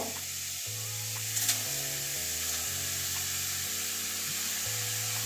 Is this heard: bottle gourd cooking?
yes